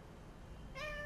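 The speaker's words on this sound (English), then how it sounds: "Meow." A cat meows once in the video game Little Inferno, a short clear meow near the end after faint background hiss.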